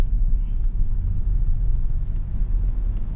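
Steady low rumble of car and motor vehicle traffic on a road in Baguio City, continuous and fairly close with no talk.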